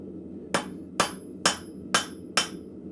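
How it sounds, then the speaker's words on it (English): A blacksmith's hammer taps hot metal on an anvil five times in an even rhythm to straighten it, each strike a sharp, ringing clink with a short decay, close and alone in a forge. "And while I'm straightening this out, I'm not hitting it hard. Just giving it light taps."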